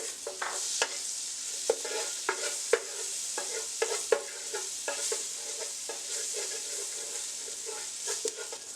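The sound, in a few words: garlic cloves sizzling in butter in a pot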